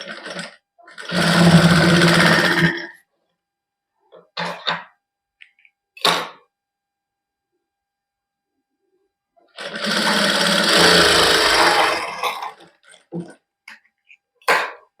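A sewing machine runs in two long bursts while basting lace onto a plain party wear suit, loud and close, with short stitching spurts and quiet gaps between them.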